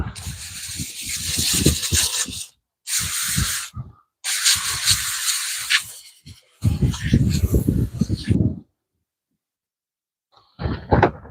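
Water hose spraying off a fish being cleaned, loud close hissing bursts of a few seconds each separated by short pauses, with a faint brief spray at the end.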